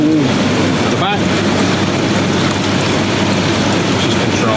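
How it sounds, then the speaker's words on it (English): A Dynasty Spas Spirit II hot tub's rear waterfall runs with a loud, steady rush of splashing water, continuous and close throughout, with no talking. "Waterfall at the back,"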